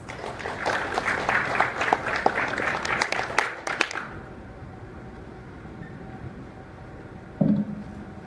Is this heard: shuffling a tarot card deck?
no